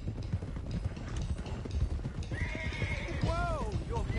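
Horses in Red Dead Redemption 2 neighing and whinnying over steady clip-clopping hooves and rumbling movement, with a loud rising whinny near the end.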